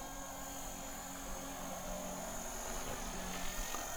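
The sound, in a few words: Blade 230 RC helicopter flying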